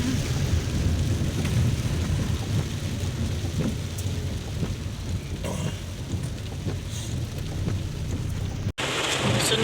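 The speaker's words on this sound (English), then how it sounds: "It's raining like, really raining like crazy." Heavy rain pours steadily in a dense, continuous roar with occasional rumbles, close and loud throughout, with a brief cut near the end.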